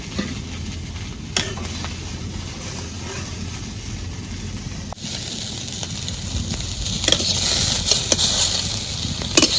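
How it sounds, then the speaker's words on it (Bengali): Fresh river boal fish sizzling in hot oil in a pan: a soft, even crackle that grows louder and busier in its second half, with occasional light clicks and no speech. "মাছ এটি ভাজা হচ্ছে"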